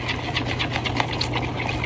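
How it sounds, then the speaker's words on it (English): A vacuum chamber runs while degassing mixed resin, giving a steady, close mechanical hum with a rapid pulsing chatter on top and no voices. "I am going to run this through the vacuum chamber, both of them."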